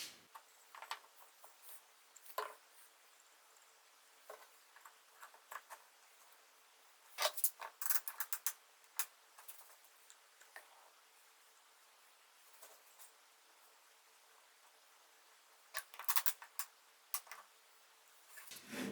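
Clamps tightened around glued wooden star pieces, giving scattered faint ticks, rubs and small wooden clicks with quiet gaps, a brief cluster midway and another near the end.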